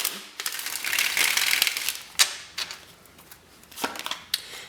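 Tarot cards being shuffled by hand, a run of crisp riffling and papery flutters followed by a few sharp taps and clacks as the deck is squared, close and moderately loud with no talk.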